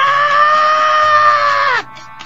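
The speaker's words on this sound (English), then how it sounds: "now it just sounds like you're yelling at me" A video game character's loud, sustained yell in a Tales-series game, one long strained cry that breaks off abruptly, followed by quiet.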